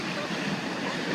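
Water from a wave crashing over riders on Le Rapide, a river rapids ride at Rainbow Magicland, makes a loud continuous splashing rush that fills the short moment, with voices mixed in.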